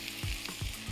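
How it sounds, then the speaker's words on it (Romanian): Zucchini, two of them cut into pieces, tipped into a pan of browned onion and garlic, giving a sizzling fry with soft stirring scrapes and a louder clatter near the end. "S-a rumenit ceapa cu usturoi și acum vom adăuga dovlecei"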